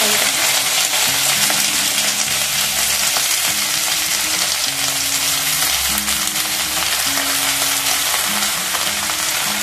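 Loud, continuous sizzling of cut jackfruit pieces frying in hot oil, with occasional stirring and scraping sounds over the crackle; no voices.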